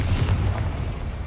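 Confringo blasting curse explosion in Hogwarts Legacy, a deep rumbling boom that stays heavy and steady for just over a second, with no voices.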